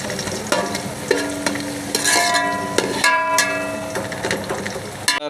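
Chopped onion frying in hot oil, a steady sizzle close by with occasional clanks and scrapes of a spoon against the pan and a faint tonal hum in the background.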